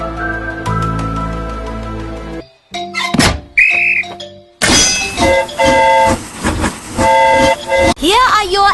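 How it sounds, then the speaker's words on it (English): A cartoon train pulls into a station in a Peppa Pig episode, with a whistle-like sliding toot and clunks breaking through bouncy background music, and cartoon voices nearby. "Here comes the train."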